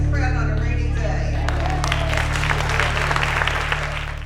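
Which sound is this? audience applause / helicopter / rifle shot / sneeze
audience applause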